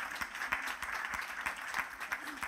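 Church congregation clapping warmly for a woman introduced to give testimony, a faint, distant patter of many hands with scattered individual claps.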